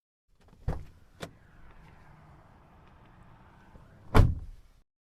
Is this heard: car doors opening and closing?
yes